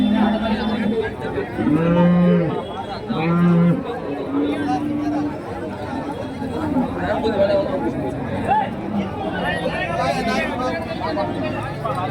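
Cows moo repeatedly at a livestock market in Karimangalam, Dharmapuri district, several loud, close low calls in the first seconds, with more lowing and market chatter continuing throughout.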